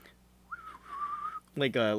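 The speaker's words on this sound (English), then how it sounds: "sort of strange whistle sound echo from it." An eerie whistle echoes from a plant creature in a fantasy tabletop game, a single wavering tone of about a second, followed by a voice that begins speaking.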